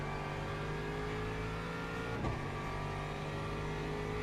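Aston Martin race car in a sim racing game at Sebring, heard from onboard: a steady, loud engine drone with strong tonal harmonics that holds nearly constant throughout, with a brief bump in the middle and no voices.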